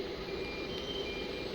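A CNC drilling and milling machine with an automatic tool changer, set up for door lock holes, sounds its alarm as a steady, faint electronic tone held throughout, with a low workshop hum beneath.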